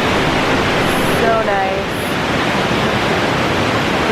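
A forest waterfall in Aomori, Japan, pours with a steady, close, broadband rush that fills the whole stretch, while a voice briefly speaks over it.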